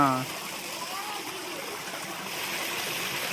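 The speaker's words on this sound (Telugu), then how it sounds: "వాటర్ చూడండి ఎలా వస్తుందో" Steady rush of canal water flowing between hills fills the clip, continuous and fairly loud, with a voice briefly heard at the start.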